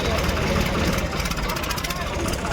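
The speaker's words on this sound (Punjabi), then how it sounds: "ਸਾਡਾ ਬਾਈ ਨੀਸ਼ੂ ਦੇਸ਼ਵਾਲ ਦੇ ਗਰੁੱਪ ਦਾ ਟਰੈਕਟਰ ਹੈ ਕਿੰਗ ਕੌਂਗ" A tractor engine runs loud and steady at a tractor pulling contest, a dense continuous rumble with crowd noise and a voice over a loudspeaker mixed in.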